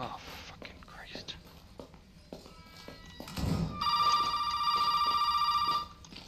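A telephone rings in Resident Evil 7, a steady electronic trill that starts partway through and continues for about two seconds. Before it there are quiet footsteps and faint movement, and someone talks softly over the scene.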